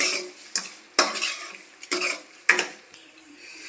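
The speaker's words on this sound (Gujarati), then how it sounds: "ધીમા ગેસે આપણે હલાવતા રહેવું." A spoon scrapes and clinks around a pan as malai cooks down on low gas for penda, with about five distinct strokes landing in an uneven rhythm, each followed by a soft sizzle of the ghee-rich mixture.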